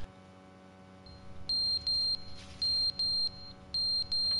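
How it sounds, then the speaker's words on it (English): Electronic beeping in the video game The Stanley Parable: paired high-pitched beeps repeat in a steady rhythm over a faint low hum, clear and close. "What's that beeping noise, bruh?"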